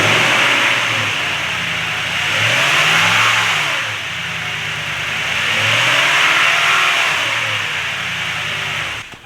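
The engine of a 2016 Toyota Tundra revs twice from idle during an oil change, two smooth swells rising and falling back to a steady idle, loud and close with no talking.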